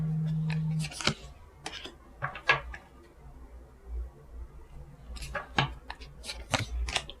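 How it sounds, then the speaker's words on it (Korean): Tarot cards being drawn and handled for a weekly fortune reading, with a few crisp flicks and snaps of card stock, some close and sharp, separated by quiet pauses and soft shuffling. "이번 주 주간 운세 카드 좀 뽑아보고요"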